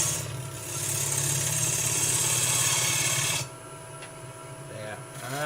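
A wood lathe spins a bowl blank while a tool cuts into it, giving a loud steady rasping scrape that drops to a quieter motor hum when the tool lifts off near the end.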